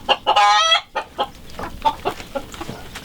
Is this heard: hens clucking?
yes